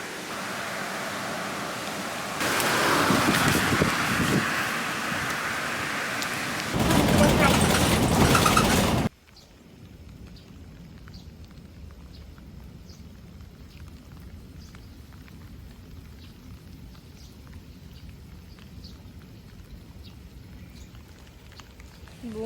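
Steady rain falls in a Japanese forest at a bus stop, a loud broadband hiss for the first nine seconds, then a softer even patter with scattered drips continuing to the end.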